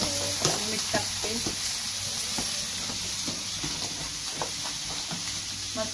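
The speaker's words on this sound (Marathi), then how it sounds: "बाकीचे मासे तळायला ठेवलेत तव्यावर" Fish frying in a pan on a flat griddle, giving a steady close sizzle and hiss with scattered crackles and pops throughout.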